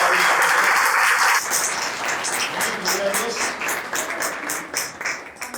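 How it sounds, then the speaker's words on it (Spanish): A church congregation applauds first-time visitors during a sermon, loud dense clapping at first that thins into scattered individual claps toward the end. "Démosle un aplauso a ellos, por favor."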